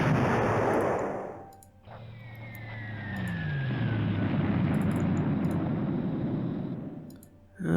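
Bombing of Malta in the WarPlan strategy game, heard as a sustained roaring rumble of explosions and aircraft noise with a descending whine, loud and continuous for several seconds before cutting off.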